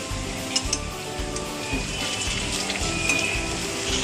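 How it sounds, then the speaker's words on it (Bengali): Lentil fritters (dal bora) frying in hot oil give off a dense, steady sizzle that stays fairly even throughout, with no voices. "বড়াগুলো ভাজছে সুন্দর করে, 1 পিঠ ভাজছে, আবার ওপিঠ উল্টাবে।"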